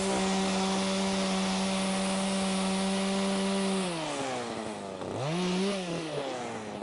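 A gas-powered ice auger engine drones steadily at high revs, then bogs down and revs back up as it bites through lake ice, loud and close.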